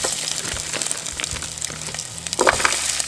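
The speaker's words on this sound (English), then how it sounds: "now that I added in the oil, just add in the pre-cut potatoes" Pre-cut potatoes fry in hot oil with a steady crackling sizzle, plus a few brighter pops and stirring scrapes near the end, close and alone.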